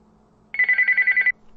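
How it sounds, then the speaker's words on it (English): A telephone rings once, a bright trilling electronic bell lasting under a second, clear and close against a quiet room. "the phone rings again"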